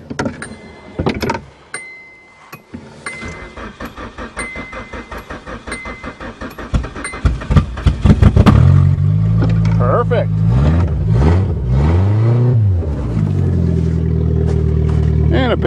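A Nissan car engine cold-starts outdoors on a farm field in March, turning over with cranking pulses before catching, then revving up and down in loud, rising and falling surges.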